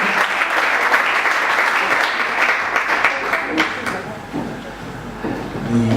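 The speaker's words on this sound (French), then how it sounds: "Sous l'applaudissement." Audience applause at the finale of a startup contest, a burst of crowd clapping that is loud at first, then thins and tapers off, with a brief swell again near the end.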